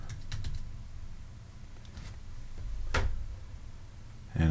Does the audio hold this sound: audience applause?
no